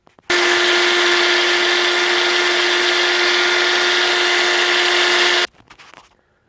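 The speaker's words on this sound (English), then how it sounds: "I've loaded the dehydrated ghost peppers into a NutriBullet container here, and I'm getting ready to make it into powder" A NutriBullet blender pulverizes dehydrated ghost peppers into powder, a loud, steady high-pitched whir that runs unbroken for about five seconds before cutting off abruptly, followed by faint rattling as the blade spins down.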